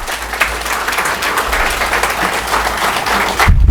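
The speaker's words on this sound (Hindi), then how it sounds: "कुछ और तालियां मुंबई अंचल के लिए चाहिए।" An audience at an anti-corruption event in Mumbai applauds, with steady, dense, loud clapping filling the whole stretch and a brief drop right at the end.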